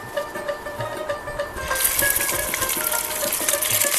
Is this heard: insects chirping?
no